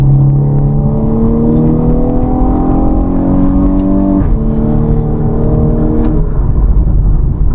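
A VW Golf R Mk6 engine revs up hard through its DSG gearbox with paddle shifts, a loud, rising drone that drops at each quick upshift before climbing again, heard from inside the car.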